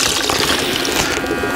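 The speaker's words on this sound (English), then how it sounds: "I can add some hot water to this." Hot water pours in a steady, close rushing stream for a moment outdoors, with no voices.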